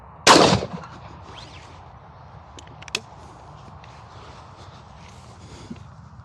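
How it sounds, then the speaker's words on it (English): A shotgun fired outdoors at about 25 meters gives one sharp, loud blast with a short decaying tail. Quieter knocks and small impacts follow over low background ambience. "and then shoot the shotgun"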